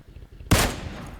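A gunshot in PUBG Mobile lands as a body hit on an enemy: a sudden loud crack after a quiet stretch, with a rumbling tail of gunfire echo.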